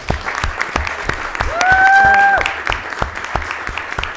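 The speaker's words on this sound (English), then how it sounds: "let's give them a round of applause" An audience at a city council meeting claps steadily in a dense round of applause, with sharp individual claps standing out and a brief whistle or tone rising midway.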